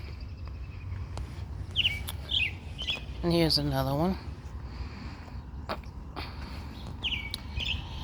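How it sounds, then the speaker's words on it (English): Birds chirp in short bright bursts near a beach, scattered through the clip with a louder trill in the middle, while a person talks over the calls. "The birds are chirping."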